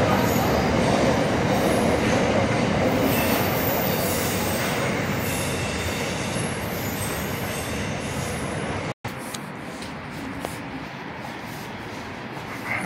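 Train passing through Lidcombe station in New South Wales, a loud continuous roar of wagons with wheels squealing against the rails, easing slightly after a brief break near the end.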